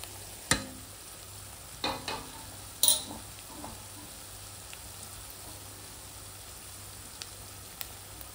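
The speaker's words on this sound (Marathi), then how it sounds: "टोमॅटो आणि काकरा हे दोन्ही ॲड करते." Tomatoes and crab are added to a hot pan for frying, giving a few sharp splashing hits early on that settle into a faint, quiet sizzle with occasional small ticks.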